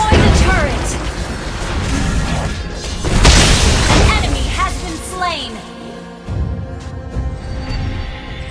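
A turret blows up in Mobile Legends during a tank-build Gatotkaca match, heavy booming crash layered with game effects and chirpy skill sounds, while an in-game announcer voice speaks over the action.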